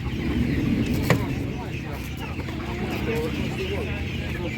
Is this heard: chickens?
yes